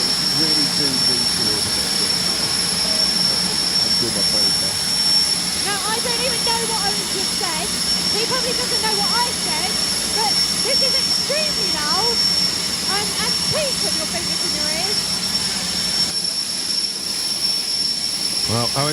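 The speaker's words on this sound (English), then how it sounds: "If you haven't witnessed a jet car before, one of the two, you really do need to witness it." A Firestorm jet car runs at a street car show, its turbine roaring continuously with a piercing high whine over crowd noise, with people talking nearby throughout.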